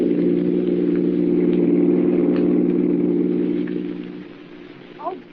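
A car engine runs steadily as a radio drama sound effect, a low even hum that holds for several seconds, then drops in level and fades slightly near the end, with a brief higher sound at the close.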